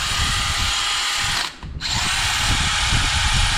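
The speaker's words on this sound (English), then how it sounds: "when it bottoms out, you'll hear the drill speed up" A power drill whirs steadily while driving a Timesert setup tool into a Honda cylinder head bolt hole, briefly bogging down as the tool bottoms out, then spinning freely at a higher, steady pitch.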